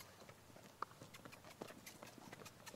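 A horse being walked by a groom at an auction strikes the ground with irregular hoof clip-clops, faint and somewhat distant, one knock louder than the rest, with no talk over it.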